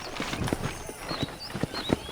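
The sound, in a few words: horse hooves clip-clopping in video game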